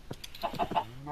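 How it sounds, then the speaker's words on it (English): Minecraft chicken clucking in a quick burst of several short, close, clipped clucks over about a second, with no talking. "Here is an escaped chicken."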